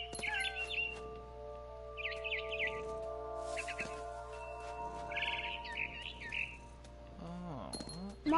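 Game-world barn swallow twittering in several quick chirping bursts against a constant humming background, with a brief sweeping tonal sound near the end.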